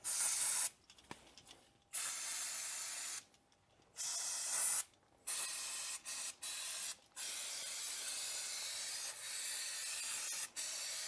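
Degreaser sprayed onto a Renault Scenic 3 brake hub and its bolt holes, a series of sharp hissing spray bursts of varying length, close up, separated by quiet pauses.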